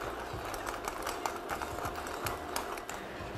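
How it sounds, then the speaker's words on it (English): Cracked black pepper is ground with a pepper mill for a chili sauce, making a steady close-up scratchy crunching under kitchen background noise, with no talk. "add 2 teaspoons of kosher salt and 6 to 8 cranks of cracked black pepper"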